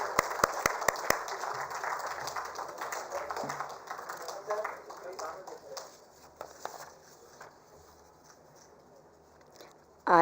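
An audience at the India Sports Awards 2022 ceremony applauds a Paralympic medal winner. A few sharp claps open a patter of applause that gradually fades while a person speaks.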